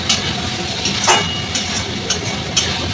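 Fish curry spice paste, with a little water added, sizzling in a pan, giving a steady close hiss broken by a few soft scraping stirs.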